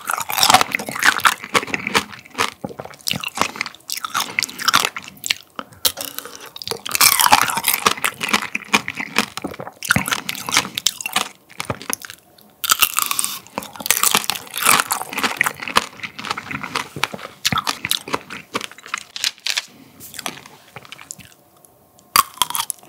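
Strawberry tanghulu with a thin sugar coating being bitten and chewed close up, loud sharp crunches and crackles in rapid irregular bursts, broken by brief quiet gaps, with no talking.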